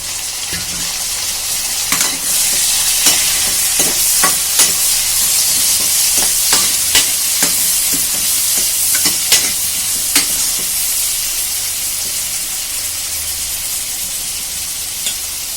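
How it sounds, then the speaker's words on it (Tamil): Tomatoes sautéing with softened onions in a pan for vanjiram fish curry, a steady close sizzle and hiss with scattered spatula scrapes and stirs throughout, no voices. "தக்காளி நல்லா வதங்கி கொஞ்சம் நல்லாவே மாவு மாதிரி ஆகிற வரைக்கும் நம்ம நல்லாவே அதை வதக்கிக்கலாம்"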